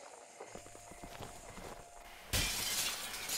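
In The Walking Dead video game, a thrown brick smashes through glass, and a sudden loud bright crash of shattering breaks over quiet shuffling movement, then the glass keeps ringing and scattering.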